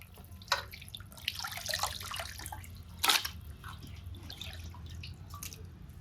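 Raw skin-on chicken is washed under a running kitchen tap, with a quiet, steady trickle and a couple of sharper splashes, and no talking.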